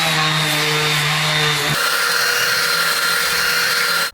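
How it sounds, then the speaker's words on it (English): Wooden desk boards are worked with a power sander, a loud steady buzzing drone that holds throughout, its hum changing pitch partway through before cutting off at the end. "Just need to get them sanded, so I'm going to do that now."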